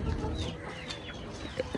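Hens in a small backyard flock cluck softly over a close, noisy outdoor background, with a few faint short calls and no talk.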